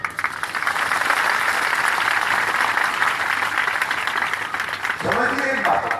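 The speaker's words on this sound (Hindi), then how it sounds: "अभी अपने लिए ताली।" A church congregation at a pastor's gathering in Bargarh, Odisha, breaks into sustained applause, a dense, steady clatter of many hands filling the hall, with a voice speaking over it near the end.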